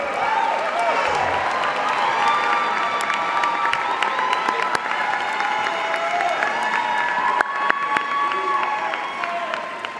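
Sustained applause and cheering from a large audience at a law school commencement ceremony in 2024, a steady dense roar of clapping with whoops and shouts running throughout, loud and close.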